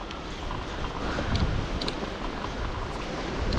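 Strong wind buffets the microphone in gusty, rumbling surges, steady and loud throughout, with no voices, on a long ride from Mersin to Kızkalesi.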